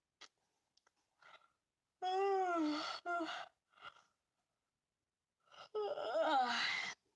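A person yawns in a quiet room, with long drawn-out voiced breaths that rise and fall, separated by small clicks and brief rustles, close and fairly soft.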